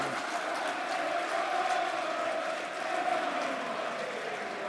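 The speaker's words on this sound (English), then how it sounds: "This is a Liam Roberts round of applause" A Millwall football crowd applauds and murmurs for Liam Roberts during a Millwall versus Bristol City match, a broad, steady roar of clapping and voices heard from a distance with no clear breaks.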